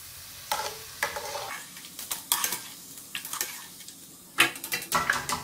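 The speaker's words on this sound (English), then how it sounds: "you deep fry this approximately for 5 minutes. You're making ginger oil." Ginger deep frying in oil to make ginger oil for Korean anchovy side dishes, a soft sizzle beneath repeated light scraping and clinking of a utensil against the pan, quiet and close.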